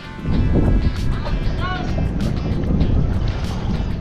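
A boat's motor runs as a loud, steady drone close by, thick with wind buffeting across the microphone throughout.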